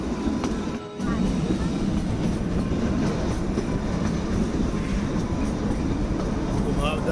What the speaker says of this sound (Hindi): रास्तों में ट्रेन चल रही है,